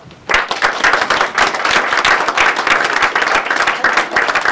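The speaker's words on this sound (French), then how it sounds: "Je vais applaudir." Audience applauding a municipal councillor at a junior mayor's installation ceremony in a French town hall, loud dense clapping that bursts in after a brief quiet start and continues steadily, close and full.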